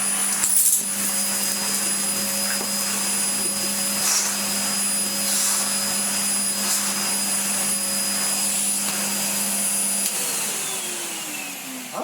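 A Numatic vacuum cleaner runs steadily with a loud, continuous motor drone and high whine, then the pitch drops slightly near the end as it starts to wind down.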